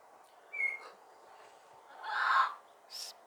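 Several bird calls sound in an animal sanctuary enclosure where loose birds roam: a brief high note, then a louder harsh squawk and a final short call, all near and separate against a quiet background.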